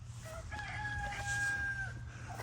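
A rooster crows in one long, drawn-out call among Brahma chickens clucking on a homestead, loud and close over a steady low hum.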